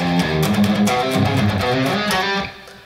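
Guitar lick from the second verse of a song, a busy, bright, distorted rock phrase of quick notes that rings for a few seconds and then fades.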